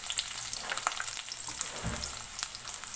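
Onion frying in a pan for Filipino pancit, a steady bright sizzle running throughout with a few light stirring knocks and a brief low thump near the middle.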